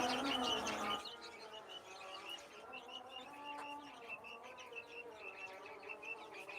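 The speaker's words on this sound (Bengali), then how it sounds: "এই যে এদিকে কোয়েল পাখিগুলো ডাকাডাকি করতেছে" Quails call repeatedly in short, chirping notes, fairly faint and close together, with a louder burst of calls at the very start.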